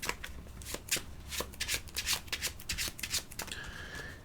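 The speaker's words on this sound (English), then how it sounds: "So I give these a shuffle." A deck of playing cards being shuffled for a trick-taking board game, with a series of crisp riffling bursts and flicks, close and quiet, ending in a soft sustained tone.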